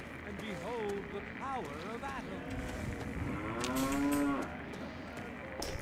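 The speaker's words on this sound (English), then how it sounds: "Generic cow sound." A cow in the Fallout 3 video game gives a long, loud moo partway through, heard over steady background noise with talk around it.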